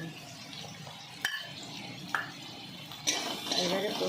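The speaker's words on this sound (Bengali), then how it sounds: "পেঁয়াজের টমেটোর সঙ্গে ভালো করে একটু নাড়াচাড়া করে ভাজা ভাজা করে নিচ্ছি" A spatula stirs poppy seed paste with green chillies, turmeric, onion and tomato frying in a pan for a taro-leaf dish, giving a soft scraping sizzle broken by three sharp metallic clanks against the pan.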